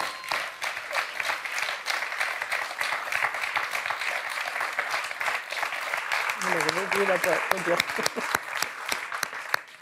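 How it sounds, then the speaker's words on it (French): A studio audience at a French quiz show applauds a contestant with steady, dense clapping that fills the whole stretch, while a voice speaks briefly over it near the end. "Xavier applaudi par le public"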